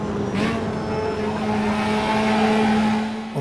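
Formula Trainer race car in the Automobilista sim racing game holding a steady engine drone on throttle, with a slight pitch rise near the start, loud and continuous with no talk.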